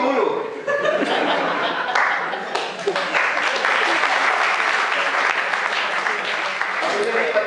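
Audience at a comedy poetry evening at IIT breaks into clapping mixed with chuckles and laughter, a dense sustained wave of applause rising after a brief start and holding steady, with voices murmuring beneath.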